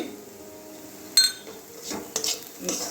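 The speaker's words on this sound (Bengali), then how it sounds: "এগুলো একটু ভেজে নেবো ভালো করে ডালের সঙ্গে" Spices being stirred and fried with lentils in a pan: a utensil clinks and scrapes against the metal in a few sharp strikes and stirs over a faint background, with no talk.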